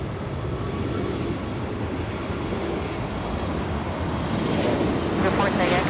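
An airliner takes off at LAX airport, a steady broad roar of jet engines heard from a distance that swells slightly toward the end, with faint talk underneath.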